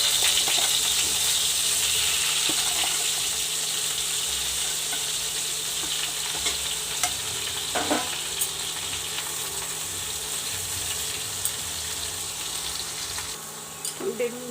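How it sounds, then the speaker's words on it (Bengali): Eggplant frying in oil in a pan in a home kitchen gives a steady, close sizzle and hiss that runs continuously, with occasional light stirring clinks. "বেগুনটা একটু ভেজে নিচ্ছি আমি।"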